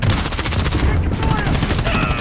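Dense, rapid automatic gunfire in a Call of Duty Modern Warfare multiplayer match, loud and continuous with overlapping shots and game effects throughout.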